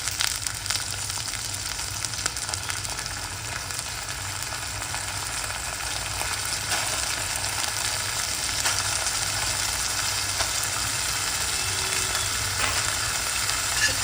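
Rice fries in hot ghee in a pan for coconut rice, a steady close sizzle with occasional stirring scrapes and no talk.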